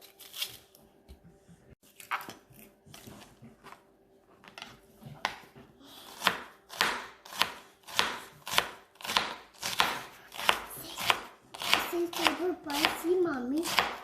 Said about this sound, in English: cut the ends of the onions and just cut it in half and then start slicing it